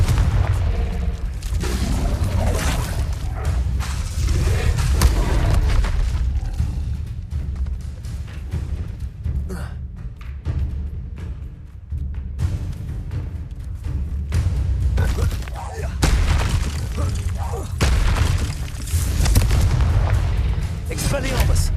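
Confringo fire spell blasts exploding one after another in Hogwarts Legacy amid a dragon fight, heavy booming bursts over a constant roaring rumble, loud and dense throughout with game voices shouting over them.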